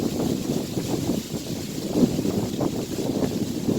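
Steady outdoor wind buffeting the microphone, a continuous low rushing roar with gentle surges and no voices.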